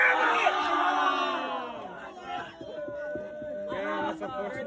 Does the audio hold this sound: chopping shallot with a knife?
no